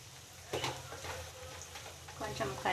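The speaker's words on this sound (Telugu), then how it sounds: "ఇప్పుడేమో అల్లం వెల్లిపాయ పేస్ట్ వేసుకుందాం" Ginger garlic paste hits onions already frying in a pan for a curry, giving a soft, low sizzle with a few stirring scrapes and spoon clinks, quiet and close.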